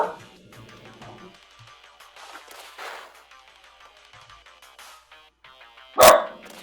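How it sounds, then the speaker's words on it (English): A pet dog named Kirby lets out a single very loud, close bark near the end, sharp and abrupt, after a stretch of quiet background sound. "That's Kirby. He's just gonna bark."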